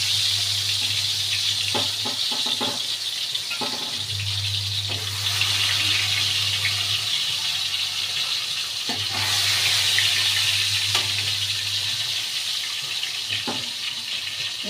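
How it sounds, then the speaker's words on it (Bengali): Three pieces of fish fry in hot oil in a home kitchen, giving a steady, close sizzling hiss that swells at times, broken by a few light clicks and taps from a utensil or the pan. "3 পিস মাছটা আগে ভেজে নিই"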